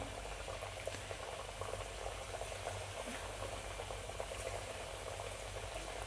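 Potato slices for homemade chips frying in hot oil give a dense, continuous bubbling sizzle, close and steady throughout, with no voices.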